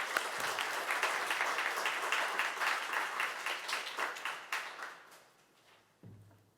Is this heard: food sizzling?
no